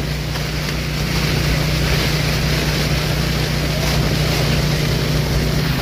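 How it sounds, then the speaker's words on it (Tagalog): Strong typhoon wind roars continuously into the microphone, a heavy buffeting rush with a low rumble underneath and no letup. "Pakalakas ang hangin."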